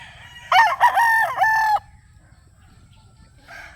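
A Boston broodstag rooster crows once, loud and close, a long wavering call, followed by quiet ground noise and a short clucking burst at the end.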